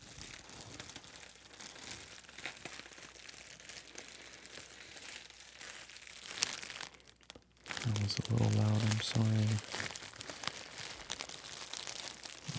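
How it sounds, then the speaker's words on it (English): Deep crinkling and crunching of material made close up for ASMR, running under soft spoken talk, with a louder, denser burst of crinkles toward the end. "And we enjoy the nice sounds. The deep crinkles."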